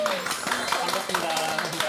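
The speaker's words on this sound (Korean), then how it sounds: "저희 박수 한번 칠까요?" A small group claps hands on a dating reality show set, a loose scattering of claps mixed under overlapping chatter and laughter.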